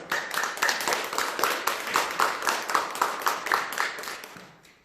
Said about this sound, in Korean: 한 쌍의 신혼부부를 위하여 축하의 박수 부탁드리겠습니다.